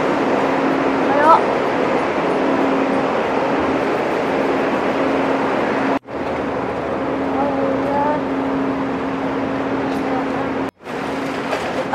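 Steady rumble and hum of a passenger train interior while moving, with a constant low drone and faint rattling, briefly cutting out twice.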